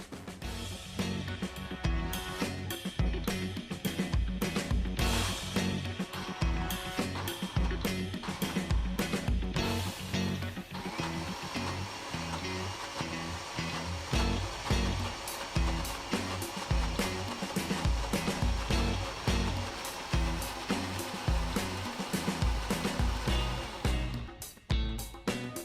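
A blender whirs continuously as it mixes wild pesto with olive oil and parmesan cheese, loud and close, with the pitch shifting slightly partway through before it stops near the end.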